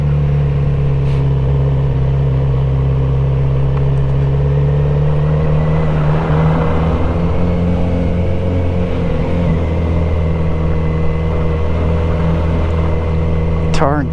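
A Kawasaki Z900RS motorcycle cruises a rural backroad in West Virginia, its steady engine drone and road rumble loud and close throughout, with a slight rise in revs partway through and constant wind rush.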